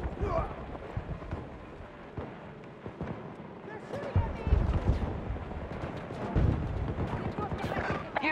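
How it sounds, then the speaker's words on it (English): Battlefield 2024 video game combat with gunfire cracking and booming amid a dense battle din, loud and continuous, while voices shout over the shooting. "They're shooting at me!"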